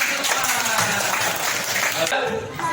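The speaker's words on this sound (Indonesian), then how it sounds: "Betul? Tepuk tangan." A classroom of students bursts into applause, a brief dense wash of clapping that fades out near the end.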